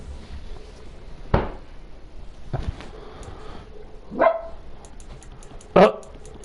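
A dog in a home barks four separate times, single sharp woofs spaced a second or more apart against quiet room noise.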